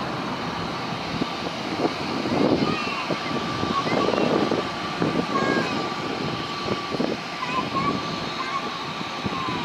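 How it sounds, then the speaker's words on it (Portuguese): An aircraft coming in to land at Lisbon airport gives a steady broadband engine roar with a faint whine. It swells a little in the middle and stays at moderate distance against background traffic-like rumble. "Está ali a pousar uma outra aeronave."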